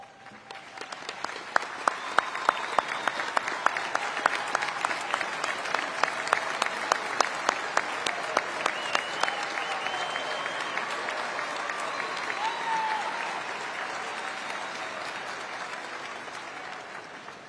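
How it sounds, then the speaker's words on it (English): A large crowd applauds at a 2022 Magnolia High School graduation ceremony, dense steady clapping from many hands with a few sharper nearby claps, sustained throughout at moderate level and only slightly tapering near the end. "Please stand at this time so that we may give you a round of applause"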